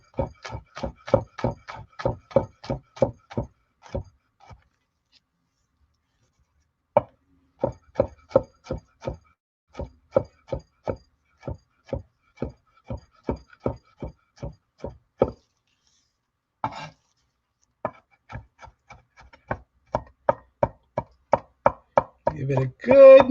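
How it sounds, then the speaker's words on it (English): A knife minces garlic on a cutting board in quick, even rows of sharp taps close up, broken by short pauses and a few slower knocks, with no talk over it. "we're going to mince this garlic up"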